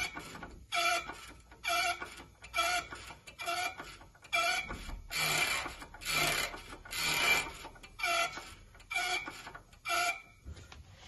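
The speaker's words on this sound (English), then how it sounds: "as the pump's working, you should see your level drop." Pump working on a Maxitrak Alice model steam engine, a close, rhythmic rasping and squeaking that repeats about once a second in steady strokes, with a few louder, breathier pulses in the middle.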